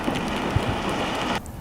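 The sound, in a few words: hail falling during a thunderstorm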